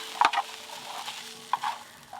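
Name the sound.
stir-frying chowmein with vinegar and soy sauce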